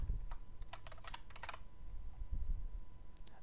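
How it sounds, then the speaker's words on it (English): Typing on a computer keyboard while entering an email password during Outlook 2007 account setup: a quick run of close, crisp key clicks in a burst, a pause, then a few more taps near the end. "And then type in my password."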